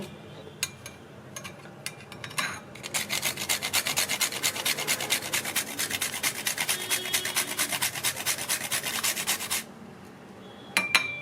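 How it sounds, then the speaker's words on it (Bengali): Whole nutmeg is rubbed on a hand grater for a thandai, a fast, even rasping run of strokes lasting several seconds, close and steady, with a few isolated scrapes before and after. "এইবার গুঁড়ো করে নেবো হচ্ছে নাটমেগ এটা নাটমেগ বলে এটা গ্রেটারে নেব"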